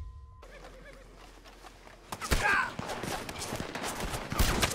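Rapid gunfire from the Red Dead Redemption 2 video game breaks out midway, a flurry of sharp, loud shots following a quieter stretch with faint ambient game sounds.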